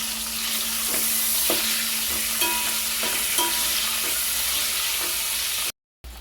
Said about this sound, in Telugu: కొద్దిగా పసుపు వేసుకుందాం. ఫ్రై చేసుకుందామండి.